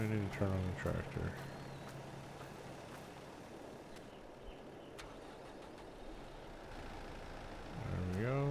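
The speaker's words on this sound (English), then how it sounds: "And we need to turn on the tractor." A tractor engine in Farming Simulator 22 cranks and fires up, with low rumbling idle running steadily and swelling louder at the end, while someone talks over the start.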